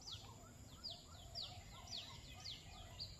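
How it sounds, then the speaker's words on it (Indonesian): Several birds chirp in quick repeated calls over a quiet outdoor hum, faint and somewhat distant. "oh suara burung tuh banyak tuh"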